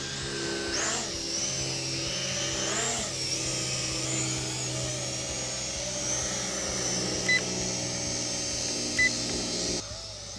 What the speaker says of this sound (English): let's go put the Mevic Air up in the air